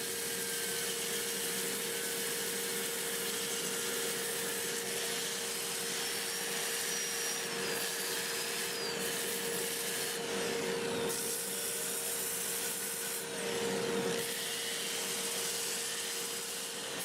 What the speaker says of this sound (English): I'm going to turn my dust collector on